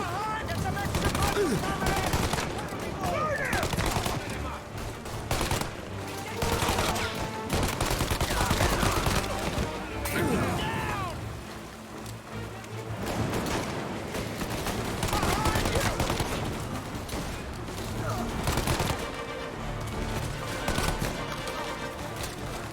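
A Tommy gun rattles in the video game Mafia: Definitive Edition, with repeated bursts of automatic fire and sharp cracks spread across the stretch, mixed with game sounds and a voice talking throughout.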